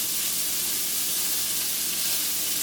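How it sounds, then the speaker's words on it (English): Onions dropped into a hot frying pan with oil, a continuous bright sizzle and hiss that stays even and close for a couple of seconds. "So I'm just dropping my onions in."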